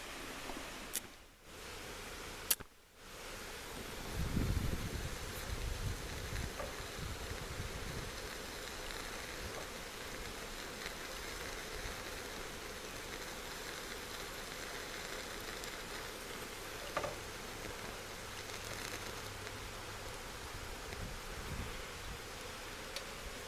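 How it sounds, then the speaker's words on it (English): Steady outdoor wind blowing for the whole stretch, a broad rushing noise with low buffeting gusts, a few sharp knocks near the start, no voices. "it's pretty windy"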